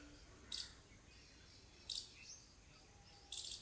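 Birds chirp outdoors in three short, bright bursts spaced over a few seconds, faint against a quiet background hiss with no talking.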